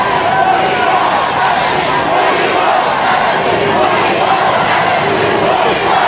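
Dense crowd noise at the New England Patriots Super Bowl LIII victory parade in the streets, a steady roar of cheering and shouting from many fans, with a voice talking over it throughout.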